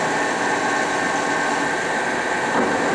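A 60-inch Webster & Bennett vertical turning and boring machine runs at 36 RPM, giving a constant, dense mechanical hum and whir with no pauses, close and fairly loud.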